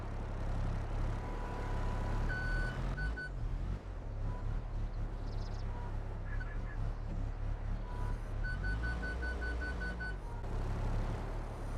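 A forklift in Farming Simulator 22 backs up with repeated short electronic reversing beeps over a steady low engine hum, the beeping coming in brief bursts, stopping, then starting again.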